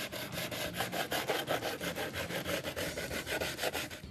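Coarse 60-grit sandpaper rubbed in fast, even back-and-forth strokes along the edges of a slatted wooden planter, close and rhythmic with no talking.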